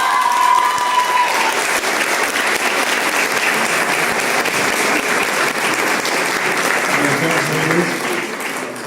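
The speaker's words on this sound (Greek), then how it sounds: "Το χειροκρότημα κρατούσε για τα παιδιά" Loud, dense audience applause fills a hall at a Greek New Year pie-cutting celebration, steady throughout and easing slightly near the end, with a brief voice heard at the start.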